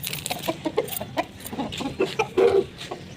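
Grown backyard hens clucking nearby while loose outdoors being fed leftover curry, a steady run of short clucks and soft calls with one louder drawn-out squawk near the end.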